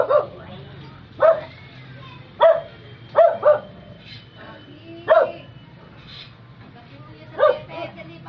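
A dog barks in short, sharp bursts, about seven of them spread unevenly, close by, with a low steady hum underneath.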